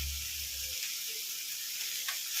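Chilli powder and garam masala for a hotel-style keema sambar fry in a pan with a continuous, even sizzle and hiss, close and fairly quiet, over a brief low hum at the start.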